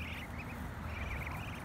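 Ducks quacking in a continuous outdoor scene, a mother duck among her ducklings, steady and moderately close with no talking.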